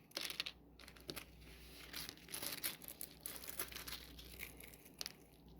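Dry, crunchy crinkling and crackling as brittle material is handled close up, in irregular bursts with brief pauses.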